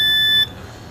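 A multimeter set to its continuity buzzer range, used to check a battery connector on an Oppo A15 phone, sounds one loud, steady high-pitched electronic beep that lasts nearly half a second and then cuts off, leaving quiet room tone.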